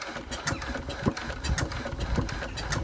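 An Enfield diesel engine with a fuel-system fault being cranked over, giving a steady, rhythmic mechanical chugging and clatter at moderate loudness throughout.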